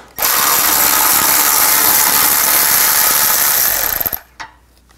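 Ratchet with a 10 mm socket loosening radiator cooling fan bolts on a 2009-17 Chevy Traverse, a loud continuous rapid clicking whir lasting about four seconds, ending in a few slowing clicks and a final clack.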